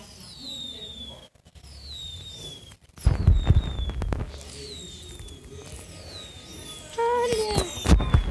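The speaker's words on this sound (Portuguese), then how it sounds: "Os fogos!" Fireworks in the Roblox video game, whistling rising streaks followed by loud popping bursts at intervals over a steady game background.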